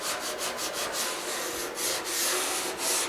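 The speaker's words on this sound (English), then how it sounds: "I have some 100 grit on this Dura block, the small one here." Steady back-and-forth strokes of 100-grit sandpaper on a small Dura block working a GTO restomod fender ahead of epoxy, a loud, close, rhythmic rasp with no talking.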